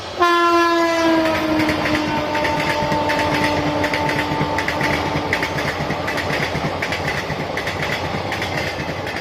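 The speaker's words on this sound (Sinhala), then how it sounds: "ගංගගේ කාමරයේ තියෙන ජනෙල් කවුරුවෙන් ඇගේ නිවසට යාබදව පිහිටා තියෙන රේල් පාර දිගේ දුවන දුම්රිය" A train runs along the railway line beside a house, opening with a loud horn blast that fades over the first second, followed by a continuous steady rumble of wagons rolling past close by, with no talking.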